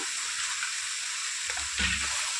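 Raw papaya halwa with cashews and almonds is stirred in a hot pan, giving a constant soft sizzling hiss up close, with a single heavier scrape of the spoon near the end.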